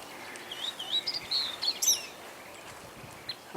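Birds chirp near a rocky bay shore, a few quick, thin calls in short bursts heard faintly and a little distant over soft outdoor ambience.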